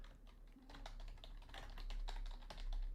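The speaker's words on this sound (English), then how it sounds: "if I can type correctly" A computer keyboard typed on steadily in quick continuous keystrokes while entering code, close and fairly quiet over a low steady hum, with no talking.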